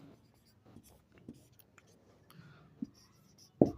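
A pen writes out a maths solution on paper. Quiet scratchy strokes come in short, irregular bursts, with a sharper knock near the end.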